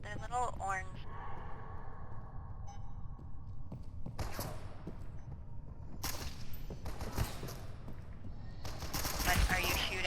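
Gunfire in The Outlast Trials horror game, with sharp broadband bursts several seconds apart that grow more frequent toward the end over a busy game soundscape, while voices talk throughout.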